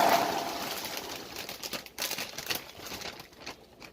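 Popped popcorn poured from a bag into a mixing bowl, a close, crackly rustle and patter of kernels tumbling in irregular bursts that taper off.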